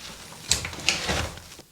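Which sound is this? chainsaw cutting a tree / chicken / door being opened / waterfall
door being opened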